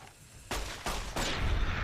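Three sharp pistol shots fire in quick succession in Fallout: New Vegas, each a loud crack with a short echoing tail, and the last one rings on longer.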